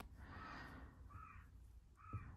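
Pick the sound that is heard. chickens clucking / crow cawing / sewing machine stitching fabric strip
crow cawing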